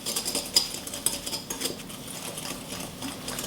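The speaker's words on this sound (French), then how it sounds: "Dans nos jaunes d'œufs, on va venir ajouter 100 g de sucre. Sucre blanc ordinaire, rien de bien compliqué. On vient juste mélanger." Egg yolks and ordinary white sugar being stirred together in a bowl give quick, light scraping and tapping strokes in an uneven rhythm, close and moderately soft, with no talking.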